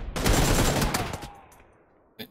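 Beryl M762 rifle fire in PUBG Lite lands as a quick, loud automatic burst close by. It cuts off about a second in and fades into a short decaying tail, then a faint click follows.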